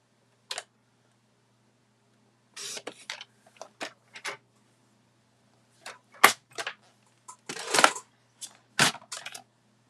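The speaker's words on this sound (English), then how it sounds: "I'm going to get my cutter, my trimmer, and I am going to cut this out" A paper trimmer slices through card in a run of quick, crisp, separate cuts, some single and some in short clusters, each a brief sharp scrape close up against a quiet room.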